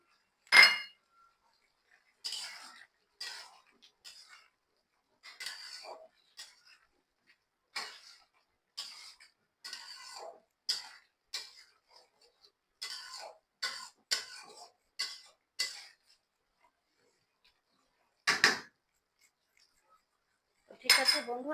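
Utensils clink and scrape against a pot while jackfruit seeds are sautéed with chicken: sparse, separate metallic taps and knocks spaced across quiet gaps, close and fairly soft, with a cough or throat-clear near the end.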